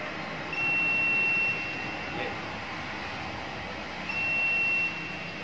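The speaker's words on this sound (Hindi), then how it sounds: "अलार्म बज पड़ेगा।" Two steady high-pitched alarm tones from an anti-sleep driving alarm that triggers when the driver's head nods, each lasting about a second, sound over a constant low road-like rumble inside a vehicle.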